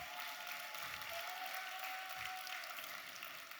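Audience applause at a masked ball university event, a steady wash of clapping from a crowd filling the room at even loudness, with no voices standing out.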